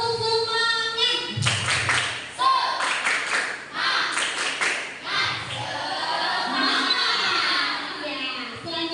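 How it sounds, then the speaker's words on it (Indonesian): A primary school class performs the rhythmic 'tepuk semangat' clapping chant, bursts of patterned claps mixed with children's chanting voices, fairly close and lively, with a teacher's voice at the start. "Tepuk semangat."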